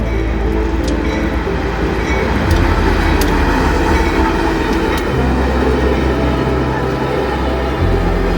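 An eastbound freight train rolls past in the snow, a loud, continuous, close rumble of rail cars with steady low-end clatter and a few brief metallic clicks from the wheels.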